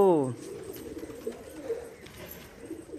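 A pigeon with a cold coos briefly at the start, then fades under someone talking nearby while its throat is cleaned.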